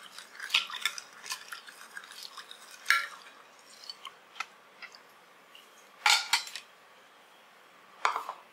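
A metal spoon stirs sweetener into panakam, clinking sharply against the vessel in irregular bursts, close and clear with quiet gaps between strokes.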